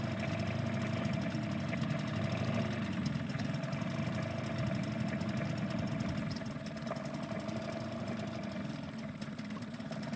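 A boat engine idles and ticks over steadily, a continuous low rumble with an even mid-range hum that holds for the whole stretch, close and fairly constant with no voices.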